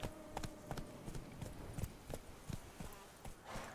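Roach the horse gallops in The Witcher 3: Wild Hunt, rhythmic hoofbeats thudding in quick repeated clusters, fairly close, with faint game ambience and no talk over them.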